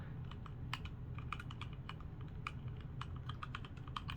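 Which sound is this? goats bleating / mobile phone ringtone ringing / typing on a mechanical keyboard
typing on a mechanical keyboard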